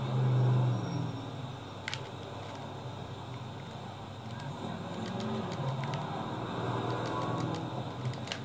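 A car driven at steady speed gives a continuous low rumble and whir from inside, with a brief louder swell near the start and faint clicks scattered throughout.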